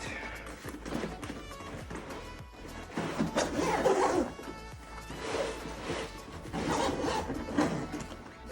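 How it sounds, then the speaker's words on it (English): A zipper dragged along a camera backpack in several long rasping pulls, close and fairly loud, with short pauses between strokes. "let's zip this up."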